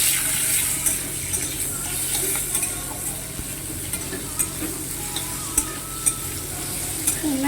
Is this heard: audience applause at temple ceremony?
no